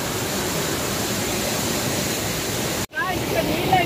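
The Ramapuram waterfall near Tirupati, swollen with floodwater, gives a dense, continuous rushing roar that cuts out for an instant near the end before resuming, with a voice faintly present.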